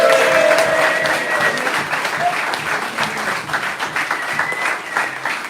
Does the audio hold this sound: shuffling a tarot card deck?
no